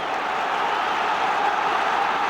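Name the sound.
football crowd noise rising at Newcastle v Blackburn FA Cup match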